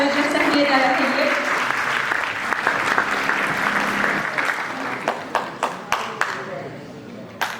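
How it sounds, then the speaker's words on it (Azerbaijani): An audience at a documentary film presentation applauds the director of the Azerbaijan State Film Fund onto the stage. Dense, loud clapping gradually thins into a few scattered, separate claps. "Film Fondunun direktoru Cəmil Quliyevi alqışlarınızla filmi izləmədən öncə səhnəyə dəvət edir"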